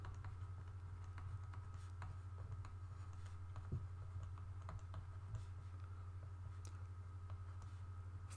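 Faint, irregular tapping and scratching of writing over a steady low electrical hum, with light ticks spread through the whole stretch.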